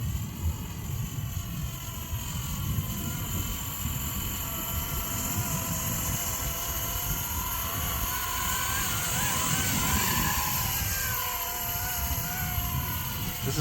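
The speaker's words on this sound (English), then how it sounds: "First time ever flying a heli." RC helicopter in flight, a steady high-pitched whine of motor and rotor with a buzzy drone that holds constant, shifting slightly in pitch as it maneuvers nearby.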